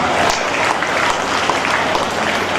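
An audience claps together at a public celebration of nature and cinema, a dense, steady wash of applause that holds at an even level for the whole stretch.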